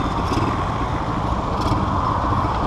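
Aprilia 50cc motorcycle engine accelerating, a loud, close, continuous buzzing engine roar throughout the short stretch.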